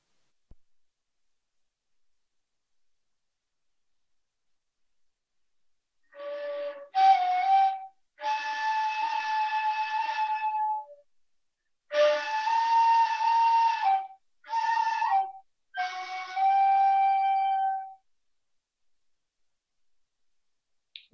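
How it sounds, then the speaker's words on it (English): A flute made from Arundo donax, a bamboo-like reed, plays clear, breathy sustained notes in several short phrases separated by brief pauses, heard alone after a few seconds of silence. "My research unites the ecology and ethnomusicology of Arundodonax, the bamboo-like plant that makes this flute."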